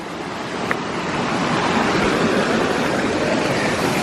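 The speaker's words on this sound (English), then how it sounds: "This beautiful little stream right here, or section of the stream, is where me and Kaylee, we collect our water." Small stream flowing over rocks at Cheaha High Falls in Alabama, a steady, loud, close rush of water without a break.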